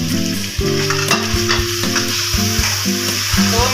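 Mutton karahi sizzles loudly in spiced oil, a dense continuous fry close up, overlaid by repeated tonal hum and ringing as the pot is worked, with frequent stirring knocks and scrapes.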